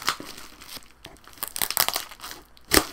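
Tough plastic packaging on a Sega Dreamcast box being torn and wrestled open by hand, close crinkling and ripping in uneven bursts with a sharp loud tear near the end, no voices.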